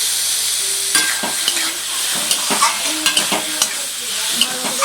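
Chicken pieces fry in a pan with ginger-garlic paste for a ghugni, giving a steady, close sizzle broken by repeated scraping stir strokes. No voice is heard.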